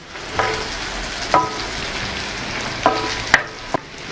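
Beef heart kavurma stirred in a cast iron pan, quiet steady sizzling broken by a few sharp scrapes and clacks of the utensil against the iron, close up with no voices.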